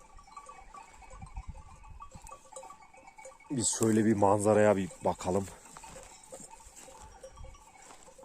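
Sheep bleat on an open hillside, a loud close call standing out in the middle amid quieter bleats and scattered rustling, while someone speaks over the scene.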